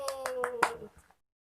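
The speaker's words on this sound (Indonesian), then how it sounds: "Ibu akan memberikan tepuk semangat agar kalian tetap semangat untuk menerima pengajaran hari ini" Children in a classroom finish a spirit clap with four or five quick hand claps under a sustained voice, fading out into silence after about a second.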